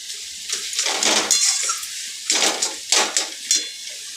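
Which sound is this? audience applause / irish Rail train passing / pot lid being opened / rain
pot lid being opened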